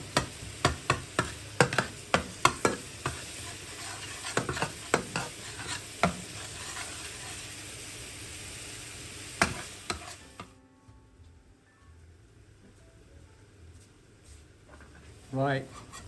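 Garlic and ginger sizzle steadily in a pan for a Sindhi biryani, with sharp clacks of a spoon stirring in the first half before the frying quiets to a soft hiss.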